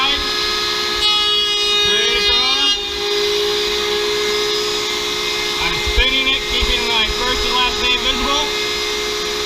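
A router cutting wood pushed along a fence holds a loud, steady whine with a harmonic hum throughout, and pitch wavers as the bit bites into the workpiece.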